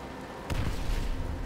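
A grenade blows up in Call of Duty: World at War, a single sharp low boom at mid-distance that rolls into a sustained rumbling tail, with no voices over it.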